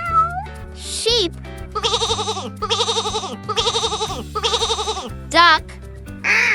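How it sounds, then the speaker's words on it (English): A sheep bleats several times in a row, each a wavering, quavering call, loud and near, with soft music playing underneath. "Sheep."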